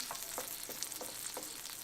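An omelet-style tuna cake fries in a pan just after being flipped, giving a quiet, steady sizzle with faint, regular stirring ticks, close by.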